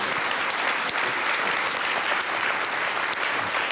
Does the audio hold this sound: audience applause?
yes